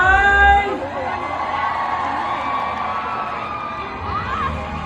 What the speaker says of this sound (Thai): ขอเสียงปรบมือดังอีกครั้งได้ไหม